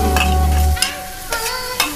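Capsicum, carrot and garlic-ginger sizzle in butter in a pan, a steady close frying hiss with a low hum that drops away, broken by several sharp stirring scrapes of a utensil against the pan; no one talks.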